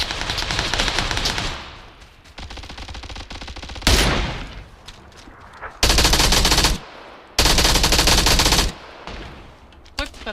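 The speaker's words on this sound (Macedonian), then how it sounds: "Кој пука тебе?" Rapid automatic gunfire from a shooting video game comes in dense bursts, several loud sustained volleys separated by quieter gaps with scattered single shots, near and harsh.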